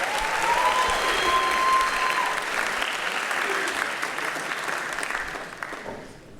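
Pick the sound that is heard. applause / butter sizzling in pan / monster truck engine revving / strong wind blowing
applause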